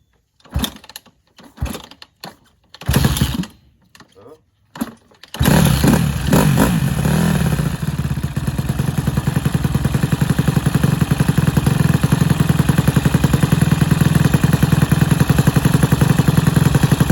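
A cheap Honda CRF150R dirt bike with unhappy-sounding valves: a few clattering kick-start attempts, then the engine catches and runs loudly and steadily at idle with a rapid mechanical chatter, close by and without talk.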